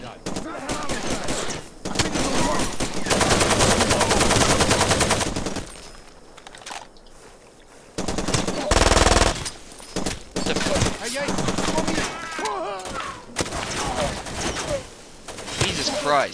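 Enemy gunfire in the video game Far Cry 2: loud, sustained automatic bursts and single shots, broken by short lulls and a very heavy blast near the middle.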